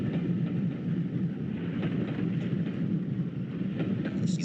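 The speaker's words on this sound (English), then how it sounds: "It's the amazing sound of the 9Fs." A BR Standard Class 9F steam locomotive rumbles along with a low, continuous chuffing roar and faint rhythmic pulses, moderately distant and steady throughout.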